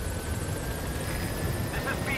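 A helicopter approaches in the Metal Gear Solid 5 video game, its steady rotor and engine drone filling the short stretch at a moderate, even level with no speech over it.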